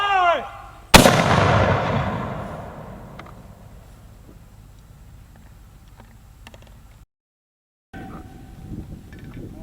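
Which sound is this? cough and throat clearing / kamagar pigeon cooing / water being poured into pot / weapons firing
weapons firing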